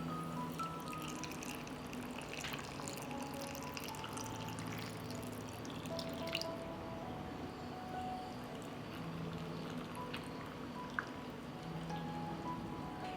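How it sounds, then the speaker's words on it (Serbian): Water is poured into glass jars packed with plums and sugar for home canning, a soft continuous pouring and trickling at close range with no talk. "I sada ću u svaku teglu sipati vodu."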